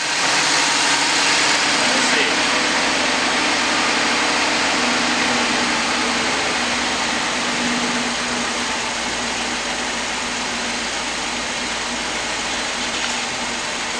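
A BMW E39 Touring engine idles steadily and close up after its injectors were coated, a continuous even hum with no clear voices.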